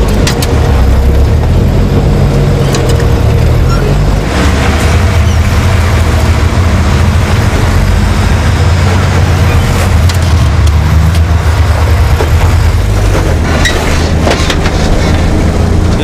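A Jeep YJ Wrangler with a 4.2L inline six and MSD Atomic EFI crawls uphill on a trail without throttle, a steady low engine rumble running loud and continuous throughout with occasional knocks and scrapes.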